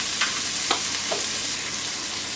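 Mashed garlic sizzles in a frying pan, a soft steady hiss broken by a few light scrapes of stirring, close and alone.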